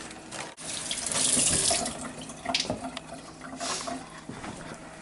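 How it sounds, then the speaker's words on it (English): Tap water runs into a sink while fresh basil leaves are rinsed under it, a steady, fairly quiet gush with small splashes and shifts as the leaves are handled. "Wash off some of this basil."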